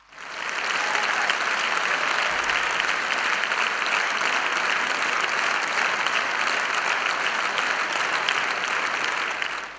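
A concert audience applauds warmly for an Armenian folk artist, a dense sustained wave of clapping from a large crowd lasting almost ten seconds and then fading.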